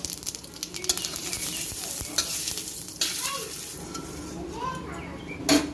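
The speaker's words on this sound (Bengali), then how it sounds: "অল্প করে একটু সরিষার তেল বলো এই যে কয়েকটা জিরা আমি এখন ফোড়ন দিয়ে তুলে নেবো" Cumin seeds tempering in hot mustard oil in a kitchen pan, a steady close sizzle and crackle with stirring scrapes and a few brief clinks throughout.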